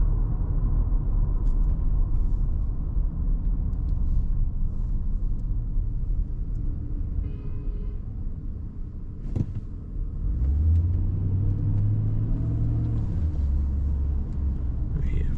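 Cabin noise from a 2013 Chevrolet Silverado 1500 pickup on the road: a steady, loud low rumble of engine and tyres throughout, with the engine note climbing and swelling midway as the truck accelerates. No one talks.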